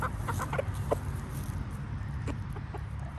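Aseel chickens, a game-fowl breed, clucking close by in short scattered bursts over a steady low background rumble.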